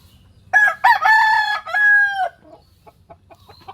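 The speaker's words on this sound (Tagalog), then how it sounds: "tumitilaok ang mga manok" A rooster crows once, loud and close, in a long rising and falling call, followed by a few soft clucks nearby.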